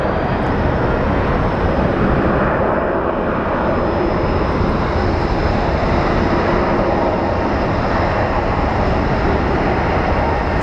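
A JSX private jet with a red stripe comes in to land at Phoenix Sky Harbor International Airport, its steady engine roar loud and continuous throughout.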